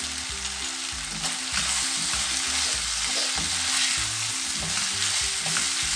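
Kofta with parsley frying in a pan as it is stirred, a dense continuous sizzle with scraping utensil strokes throughout, loud and close.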